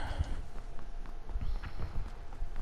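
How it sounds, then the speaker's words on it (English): Footsteps of a running player in the PUBG video game, a fast, quiet series of soft thuds repeating steadily throughout, with no talk. "I hear footsteps"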